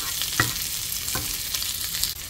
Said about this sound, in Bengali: আর এখানে কিছু পেঁয়াজ কুচি আর একটু কাঁচামরিচ কুচি দিয়ে দিলাম। দিয়ে একটু নেড়ে চেড়ে